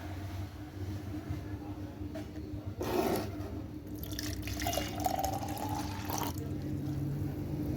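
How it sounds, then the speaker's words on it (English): Water runs and splashes as it is poured into an overflow vessel set up for an Archimedes buoyancy demonstration, a steady trickling stream with a louder gush partway through, heard close and alone. "first I am going to set the overflowing vessel with water."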